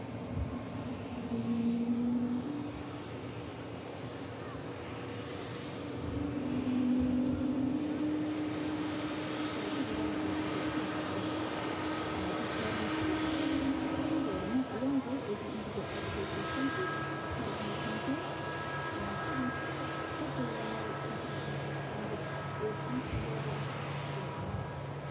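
Jet engines on an airliner at Manchester Airport spool up in a moderate, steady roar with tonal whines rising and falling, heard from some distance over a low background rumble.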